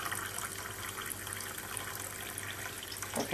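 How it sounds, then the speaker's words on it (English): Water runs steadily from a tap, as if filling a glass, a soft continuous splashing stream. "fill up the glass"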